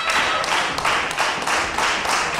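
Wrestling crowd at an FWA Academy show clapping in a steady rhythm, about two claps per second, a dense hall-wide pattering held for a couple of seconds with no clear talk on top.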